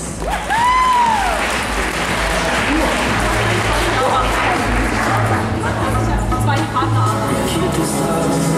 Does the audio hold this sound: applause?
yes